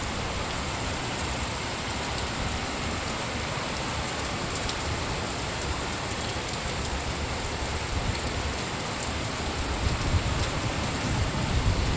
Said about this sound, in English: So today it's raining in Bangalore